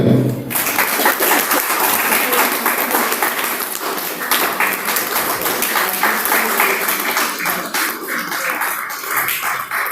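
A crowd applauds steadily through a felicitation ceremony at a formal temple inauguration, with dense, sustained clapping from many hands that starts sharply and stays loud and even throughout, with no voices over it.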